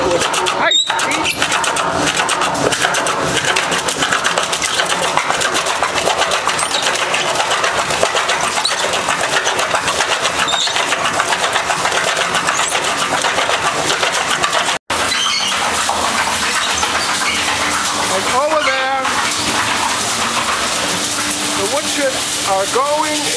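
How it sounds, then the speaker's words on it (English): Automatic wood chipper on a straw, miscanthus and logwood biomass power generator chipping wood logs at high speed, a loud continuous mechanical roar with one brief dropout, under speech throughout. "You see that there's an automatic chipper. It chips the wood logs high speed."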